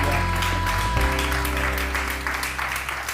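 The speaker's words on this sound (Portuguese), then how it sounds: "Um aplauso para ela." Applause from a television studio audience fills the room in a dense, steady wash of clapping, with a sustained musical tone underneath that fades in the second half.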